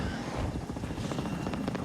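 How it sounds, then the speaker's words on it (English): A helicopter in the game Avatar Frontiers of Pandora gives a steady low rotor thrum, moderately faint and continuous, with no talk over it. "There's another helicopter."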